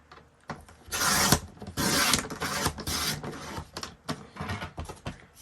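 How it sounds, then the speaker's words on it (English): Blade or scissors cutting through a journal cover spine down to size, heard as several close rasping, scraping strokes of rough cutting over a few seconds, with small handling sounds between them. "Let me cut this spine down."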